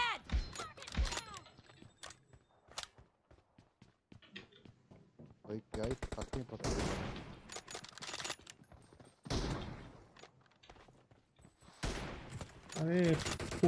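Bursts of gunfire from the shooter game Free Fire, including rapid volleys and single shots, crackle in uneven clusters beneath frequent excited talking by players.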